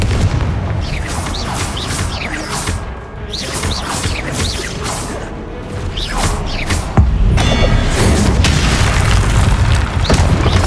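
Confringo spell explosions in the video game Hogwarts Legacy, loud booming blasts with crackling bursts over dense game combat noise, repeated through the stretch and ending in a heavier roaring impact.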